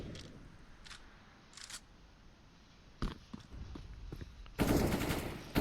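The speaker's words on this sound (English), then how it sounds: "She sprays down on Minion" Automatic gunfire from a player spraying at an opponent in a competitive first-person shooter match. It comes in several sharp, rapid bursts, the last one louder and longer, over a steady background hum.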